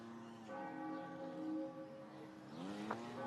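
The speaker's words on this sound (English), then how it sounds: "Church bells are echoing off a large surface." Church bells ring out in a neighborhood, their sustained harmonic tones echoing off a row of buildings, steady and moderately distant with a brief brighter strike near the end.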